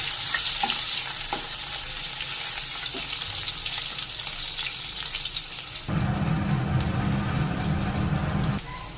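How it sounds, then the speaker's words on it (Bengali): Long eggplant pieces fry in hot oil left over from frying hilsa fish, giving a loud, continuous sizzle that shifts in tone partway through, as if the pieces are stirred or moved. "বেগুন সামান্য একটু ভেজে নেব।"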